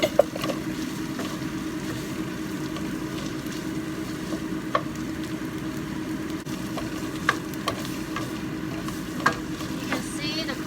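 Peas and carrots stir-fry in a pan for ma po tofu, a steady sizzle broken by occasional sharp clicks of a utensil against the pan.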